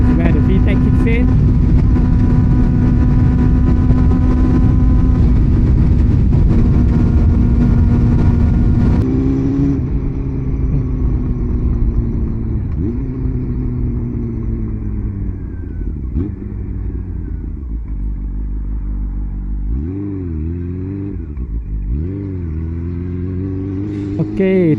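Honda CB400 motorcycle accelerating hard with its VTEC system kicking in: a loud, close engine drone that drops back, then climbs through repeated rising revs and gear changes, steady throughout.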